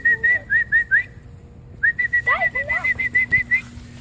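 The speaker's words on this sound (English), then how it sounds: "So with my whistling," A person whistles in short, repeated bursts to call a French bulldog puppy, two clusters of quick chirping whistles separated by a brief pause, close and clear against a quiet room.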